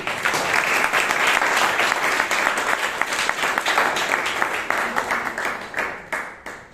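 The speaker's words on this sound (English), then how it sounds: "If you can do better with the applause" Dense audience applause fills a Toastmasters club meeting in Bangalore, many hands clapping steadily and loudly before thinning out toward the end.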